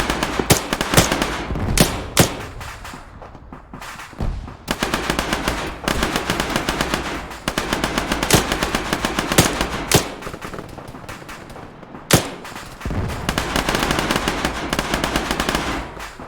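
Video game firefight on a hillside, with repeated loud bursts of automatic machine-gun fire and single shots, close and rapid, with short pauses between volleys and no talk.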